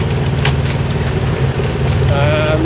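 A sailboat's engine chugs steadily at low speed, a loud, even rumble with a faint higher whine near the end.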